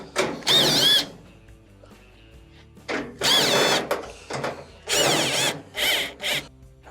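Power drill backing screws out of the front panel of a GE dryer, four separate whirring bursts of about a second each with short pauses between them, close and fairly loud with no talking.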